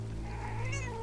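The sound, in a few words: cat meowing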